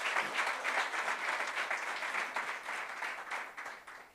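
A church congregation claps loudly together during a Sunday worship service, producing dense, sustained applause that fills the room steadily for several seconds with no speech over it.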